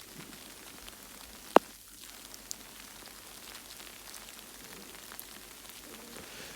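Rain falls during solo camping outdoors, a steady soft patter and hiss on surfaces with one sharp nearby tap partway through.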